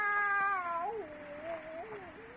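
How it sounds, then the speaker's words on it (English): Cat yowling in an old-time radio horror drama: one long, loud, close wail that wavers and slides downward, heard alone with no talk over it. "That cat."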